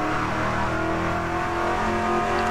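Racing car engine from a racing game on the Singapore Grand Prix circuit, a loud steady high-revving drone held close throughout with no voices.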